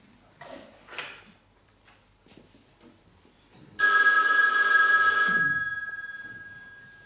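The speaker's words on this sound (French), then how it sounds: "C'est le téléphone." A telephone bell rings loudly indoors for about two seconds, a sustained electronic trill that then fades, following a few quiet rustles and brief murmurs.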